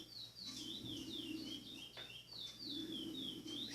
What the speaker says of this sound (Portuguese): Você pode ver aí o passarinho repetindo.